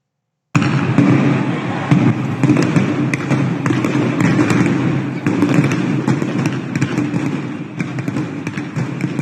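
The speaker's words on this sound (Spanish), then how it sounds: "Las fuerzas de seguridad dispersan a los manifestantes con gas lacrimógeno y granadas aturdidoras." Security forces firing stun grenades and tear gas to disperse protesters in Burma, with scattered sharp bangs and thumps over a continuous, noisy outdoor din heard from some distance.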